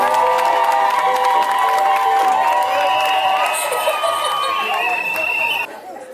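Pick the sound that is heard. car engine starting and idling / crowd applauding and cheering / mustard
crowd applauding and cheering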